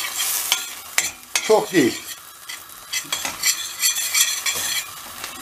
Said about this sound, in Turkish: Şimdi bakın arkadaşlar bunu böyle kavuruyoruz.